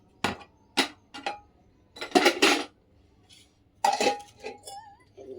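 Metal kitchen pots and utensils clank and clatter in separate bursts during washing at a sink, sharp close knocks and ringing clinks spaced by short pauses.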